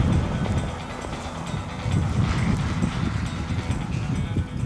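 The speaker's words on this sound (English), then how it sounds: "I bet you that wind is blowing 40 or 50 miles an hour." Strong wind gusting in cold Wyoming mountains, a loud continuous rumbling buffet across the microphone that swells and eases without pause.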